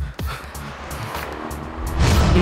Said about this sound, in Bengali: লরি!